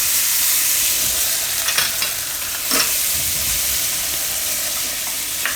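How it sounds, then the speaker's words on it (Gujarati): Garlic, turmeric and ginger roast in a hot pan, giving a steady close sizzle with a few scraping stirs, and a voice briefly speaks over it. "આ લસણ અને હળદર અને આદું આ બધું પહેલાં નાખવાનું, એટલે આ શેકાઈ જાય"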